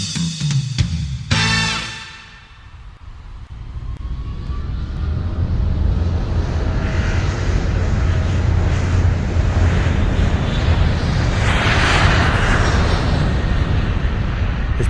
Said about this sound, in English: His plane quickly took off